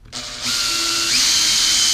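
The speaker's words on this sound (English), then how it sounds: "now I'm just going to drill through here like this" A power drill bores through a plastic part of an Arrma Granite 4x4 RC car differential set on a wood block, a loud close whine that spins up, rises in pitch and holds steady.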